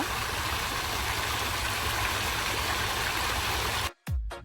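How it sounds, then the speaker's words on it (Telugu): Flowing water in an outdoor spot, a loud, steady rushing wash filling the scene without pause until it cuts off abruptly near the end, followed by a short low thump. "సౌండ్ బాగా వస్తుంది, వాటర్ సౌండ్"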